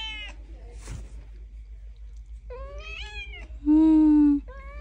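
Kitten meowing several times in a row, each call a clear high mew, the later ones longer and louder, heard close with a low steady background hum.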